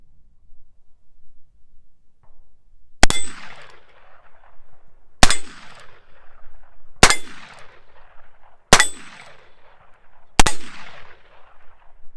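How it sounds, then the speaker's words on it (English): A Heritage Tactical Cowboy revolver fires five loud, sharp shots at a steel plate, spaced a second or two apart. Each crack is followed by a bright metallic ring off the plate, with no talking. "let's go fire some shots at that plate"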